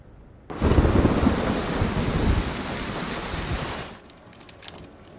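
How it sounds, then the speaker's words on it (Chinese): Heavy rain pours with a low rumble of thunder, starting abruptly and loud for about three and a half seconds before easing to a softer, steady patter of rain. "下这么大雨"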